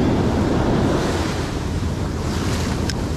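Ocean waves break steadily on the shore at a fishing spot, a continuous loud rushing wash with wind buffeting the microphone and no voices.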